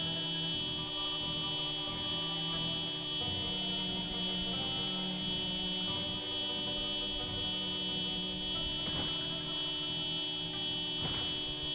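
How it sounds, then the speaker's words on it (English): A car alarm sounds in Project Zomboid, a steady, droning electronic buzz with a layered hum that holds unbroken throughout, with a few faint thuds near the end. "the alarm is on my vehicle, and it's not going to go away"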